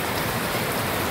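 Heavy rain pours in a dense, steady hiss, loud and close, with no voices.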